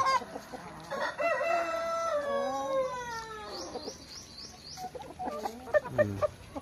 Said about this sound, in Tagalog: Isa lang naman ang rooster, maraming hen.